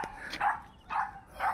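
Dogs barking in a village lane in Bohol, three sharp barks spaced roughly half a second apart at moderate distance over faint outdoor background.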